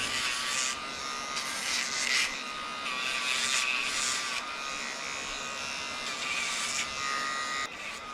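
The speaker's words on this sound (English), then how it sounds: "I tried to Dremel them just to get them as short as possible" A Dremel rotary tool grinds down the nails of a Mini Goldendoodle, a loud continuous high whine close up that wavers slightly as it presses on and lifts off each nail.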